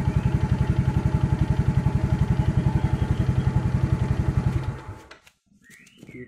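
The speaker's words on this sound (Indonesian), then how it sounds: "Kita biarkan mesin menyala selama minimal ya 3-10 menit, minimal 3 menit." Motorcycle engine idling at the lowest RPM during an oil check, a steady, even thumping pulse up close that cuts out near the end, followed by brief faint clatter.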